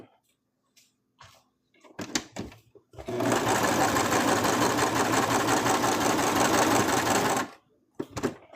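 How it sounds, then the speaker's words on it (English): A sewing machine runs in one sustained burst of about four seconds, stitching fabric for a plush mouse costume, loud and steady, with a few short clicks and handling noises before and after. "I am still sewing very close to the edge"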